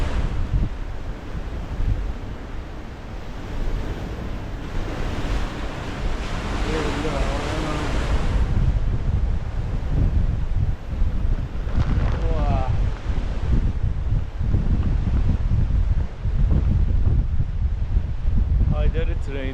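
Force 8 winds buffet the microphone on the rough Malta coast at Migra l-Ferha, with heavy surf crashing and roaring continuously and gusts rising and falling over about twenty seconds.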